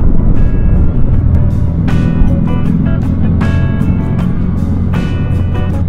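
BMW R18 bagger motorcycle engine on a test ride, a loud, deep, continuous rumble with repeated rising tonal surges as it revs, heard close with no speech over it.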